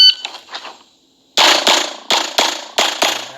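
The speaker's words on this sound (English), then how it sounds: "So watch how long it takes me to fire that first shot." Glock 45 pistol fired at a USPSA shooting match: after a short quiet pause, a rapid string of about six sharp, loud, close shots rings out in quick succession.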